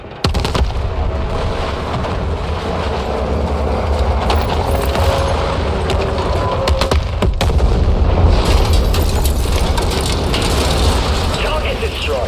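Heavy booming blasts and sharp cracks roll continuously in a Battlefield 6 military campaign mission as a fire strike lands, loud and dense, with radio chatter in the mix.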